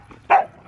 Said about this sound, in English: Snow dogs playing in the snow.